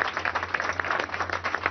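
A short burst of steady applause from an audience at a televised Venezuelan government broadcast, dense, even clapping with no voices over it.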